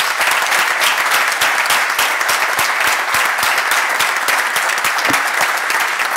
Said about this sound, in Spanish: pido un fuerte aplauso para Francisco Alfonso.